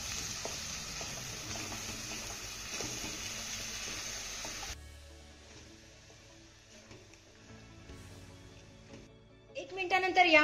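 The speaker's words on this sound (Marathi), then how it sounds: "हे वाटण आपल्याला तेलामध्ये 1 मिनिटभर छान असं परतून घ्यायचं आहे" Spice paste sizzles and is stirred in hot oil for eggplant rolls, a soft crackling hiss that fades midway and then picks up again with some clattering near the end, under a voice.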